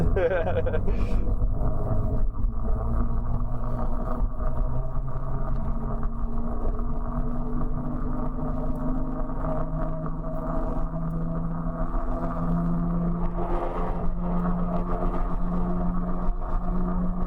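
A commute pod vehicle accelerating toward top speed on its first ride into town: a steady, loud motor drone whose tones climb gradually as it speeds up, with constant road rumble underneath.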